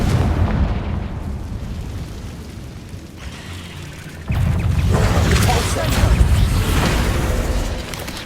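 Confringo blasting spell in Hogwarts Legacy on PS4: a sudden heavy explosion bursts in midway and rumbles on loudly after a lower stretch of ambient rumble, with a voice speaking over it.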